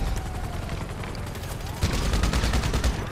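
Rapid gunfire bursts in the GTA video game, loud and dense, growing heavier and more continuous through the second half.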